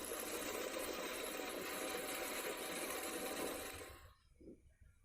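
A small engine on a French paratroop weaponized scooter buzzes in a steady, continuous drone, then cuts out abruptly near the end.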